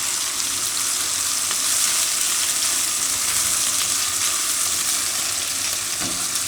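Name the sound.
ginger sizzling as it is added to frying pan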